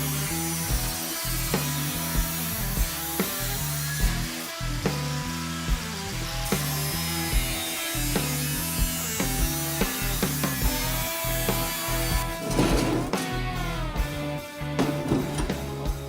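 A power saw cuts and trims car body metal in a custom garage, droning steadily and loudly throughout with a rhythmic, pulsing grind and brief scraping flare-ups.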